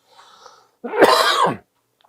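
A single harsh cough from someone with a chest cold, loud and close, following a moment of faint breathy murmuring, then quiet.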